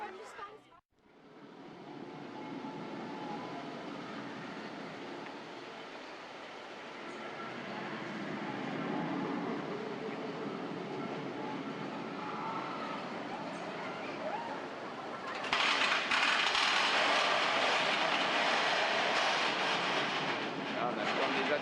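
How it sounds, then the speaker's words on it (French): A train passes at Disneyland as a steady, loud rumble and rush that lasts throughout and brightens near the end, with voices faintly underneath. "C'était un train."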